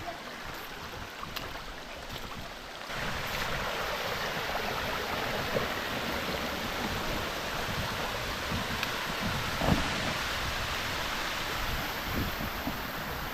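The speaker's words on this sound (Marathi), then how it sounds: "शोधून काढला आहे धबधबा" A small hidden waterfall in nature, its steady broadband rush of falling water continuous and fairly close, even throughout with no voices.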